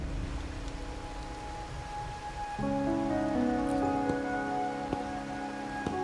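Rain in the video game Wuthering Waves falls as a steady, even hiss, with a low tonal music bed underneath that swells midway and continues with no talking.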